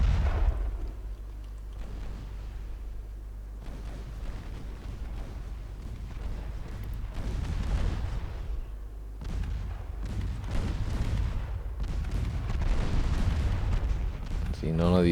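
Naval gunfire in Ultimate Admirals: Dreadnoughts, with 2-inch and 7.5-inch guns booming repeatedly in deep thuds over a constant low rumble, while someone talks throughout.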